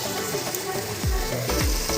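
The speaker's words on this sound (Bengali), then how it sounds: "মাংসটা ভালো মতন করে এখন নাড়বো, নেড়ে চেড়ে একটু ভালো মতন মানে কষাবো একটু আর কি" Spiced meat stirred and fried in a pan, a dense close sizzle with a couple of scraping strokes, loud and steady.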